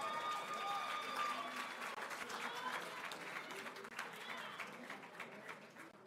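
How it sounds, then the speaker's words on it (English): Audience applause at the 2024 Hofstra Athletics Hall of Fame induction ceremony, a fairly quiet, distant wash of clapping that slowly tapers, with some faint crowd voices mixed in. "once again, a round of applause for the newest member of the Hofstra Hall of Fame, Stephen Bowen."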